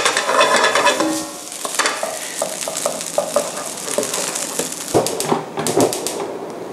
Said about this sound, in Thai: ผมต้องผัดให้มันเข้ากันดีก่อน